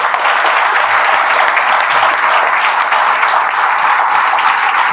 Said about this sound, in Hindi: तो एक बार दीपक जी के लिए ताली बजा दीजिए।